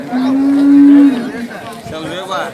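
Cattle moo at a weekly bull market in Haunsbhavi, with one loud, close, drawn-out low moo that trails off as faint crowd chatter and other market noise continue behind it.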